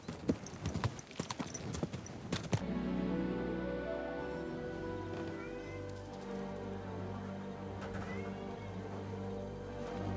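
A horse's hooves clip-clop in quick, close, sharp beats on hard ground in the video game Kingdom Come: Deliverance 2, then stop and give way to a low ambient drone.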